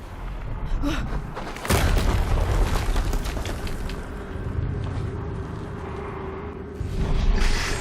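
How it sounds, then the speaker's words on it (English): An explosion booms in the video game Horizon Zero Dawn Remastered, a sudden loud blast with rumbling aftermath amid ongoing game noise, followed by another heavy burst later. "Another explosion."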